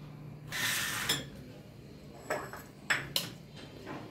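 Pots and utensils clatter as a wife cooks khichuri in a home kitchen: faint clinks and scrapes of metal cookware, a scraping stretch followed by a few sharp, separate knocks at irregular intervals.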